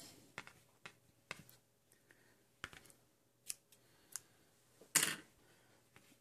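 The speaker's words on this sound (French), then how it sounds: "On va donc couper le fil." Scissors snipping crochet yarn at the end of a small scalloped crochet frame, with several quiet, close clicks and cuts spaced irregularly and one louder snip near the end, in a quiet room.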